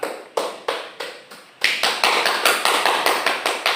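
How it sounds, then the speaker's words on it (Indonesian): Applause for a student group after its biology presentation in a microteaching classroom: a steady run of sharp, rhythmic claps, sparse at first and then thickening into a fuller, evenly paced clapping from a small group nearby. "tepuk tangan untuk kelompok 2"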